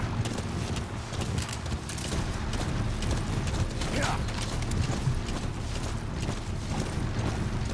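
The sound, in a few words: horse hooves clip-clopping in Metal Gear Solid V video game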